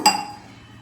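A glass is set down in a home kitchen while oil heats for frying chilli bajji, giving one close, bright clink that rings briefly and fades.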